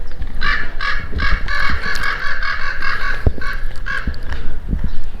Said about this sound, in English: Birds are waking up.